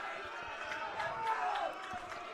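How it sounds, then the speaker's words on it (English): Crowd noise swells at a varsity high school baseball game during a full count, a steady murmur of spectators that builds slightly toward the middle, with distant voices mixed in. "Crowd getting loud."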